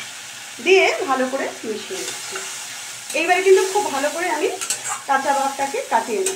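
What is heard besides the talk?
stirring onion, ginger, garlic and green chilli in pan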